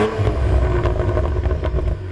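Throaty engine growl from a 2022 Cadillac CT4-V Blackwing with its adjustable engine note, a steady, loud, low rumble with pulsing revs that holds for a couple of seconds before easing slightly at the end.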